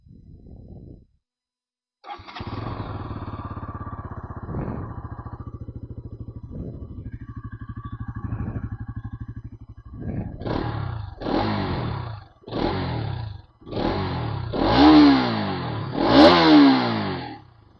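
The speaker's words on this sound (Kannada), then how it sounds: "ತೋರಿಸ್ತೀನಿ ನಿಮ್ಗೆ ಎಕ್ಸಾಸ್ಟ್ ಹೆಂಗೈತೆ ಸೌಂಡು ಅಂತಂದು." Bajaj Pulsar NS 200 motorcycle engine starts and idles with a deep, steady exhaust note, then is revved in five or six sharp, rising throttle bursts, loud and close.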